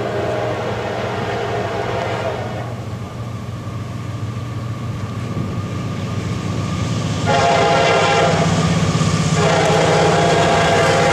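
CSX standard-cab freight locomotive passing with a train, loud continuous rumble and rail noise, its horn sounding in long blasts near the start and again strongly toward the end, close and dominant.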